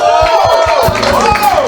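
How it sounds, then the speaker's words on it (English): Crowd at a sports honours event cheering and clapping, a loud blended roar of voices with rhythmic thumping claps running underneath. "A big warm round of applause."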